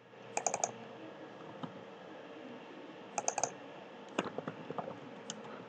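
A computer keyboard is being typed on while writing Selenium code, with short bursts of crisp clicking keystrokes separated by pauses, close and fairly quiet against faint room hiss.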